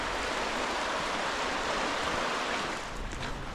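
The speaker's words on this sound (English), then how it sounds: "Just crossing over the river." A river near Gradbatch Mill in the Peak District in winter rushes steadily as someone crosses over it, a loud, continuous broadband flow with no voices.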